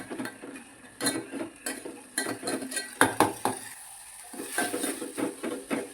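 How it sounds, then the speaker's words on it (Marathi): Masala frying in hot oil for chicken biryani, with a spoon clinking and scraping against the metal pan in irregular taps over a low sizzle, close and clear. "मसाला थोडा हा तेलात छान फ्राय करू"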